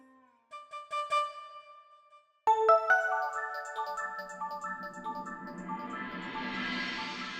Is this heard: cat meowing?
no